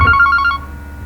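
A telephone rings loudly and close with a fast warbling trill for an incoming call, then stops after about half a second, leaving a low hum.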